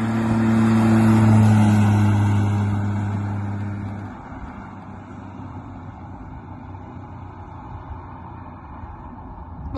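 A 1948 Chevy Sedan Delivery approaches along a highway. Its engine drone swells loud and close in the first seconds, then eases into a steady, broad road rush with no voices.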